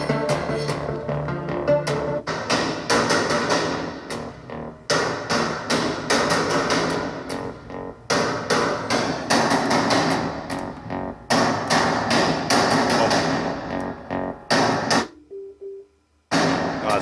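Bugani M90 Bluetooth speaker blasting music at maximum volume, dense and loud with punchy beats and full-range sound, broken by a few brief dropouts near the end.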